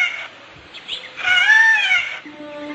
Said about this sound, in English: a pair of peacocks whose raucous squawks make them as effective guards as the farm geese